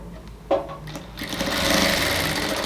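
Sewing machine stitching folded fabric on ladies' pants, a brief tap and start-up followed by a fast, steady whirring run of stitches, close and clear.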